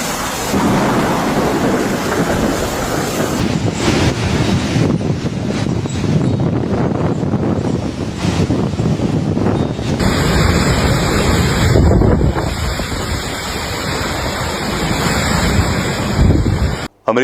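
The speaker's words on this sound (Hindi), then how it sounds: "तूफान की वजह से सड़कें दरिया बन गई हैं। तुंद व तेज हवाएं, दरख्त और सोलर पैनल्स उड़ा ले गए।" A powerful storm with strong winds and heavy rain that flooded streets and toppled trees makes a continuous, loud roar of gusting wind and pouring rain, with rumbling undertones throughout.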